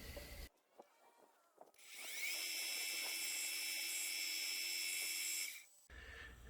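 A carbide boring tool cuts a hole in a part of an explosion-proof brake motor, a loud sustained high whine of machining for several seconds, with quieter shop noise before and after.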